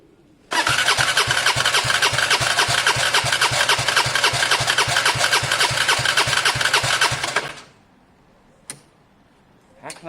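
A Gilera DNA 125 scooter engine cranks over at wide open throttle during a compression test, a steady rhythmic whirring chug lasting about seven seconds before cutting off, followed by a couple of faint clicks.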